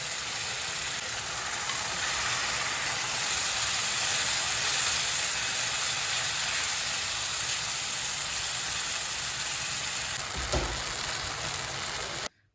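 Shrimp cooking in a thickening sauce in a pan, a steady broad hiss and bubbling sizzle that holds evenly for most of the time, with a brief thump near the end before it cuts off, no talking.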